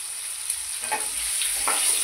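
Potatoes for Punjabi dum aloo frying in oil with a pinch of turmeric, giving a steady, bright sizzle with a few soft stirring scrapes over about two seconds.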